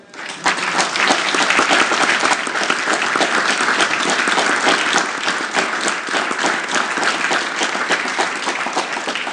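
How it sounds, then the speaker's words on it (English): Sustained, loud round of applause from an audience at a county board of supervisors meeting, steady clapping filling the room for several seconds with no talking over it. "Let's give them a round of applause."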